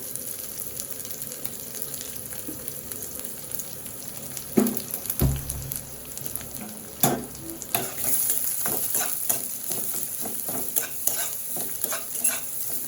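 Chopped onion and garlic fry in oil for khichuri, a steady close sizzle broken by spatula scrapes and clinks, with the stirring growing busier and louder in the second half.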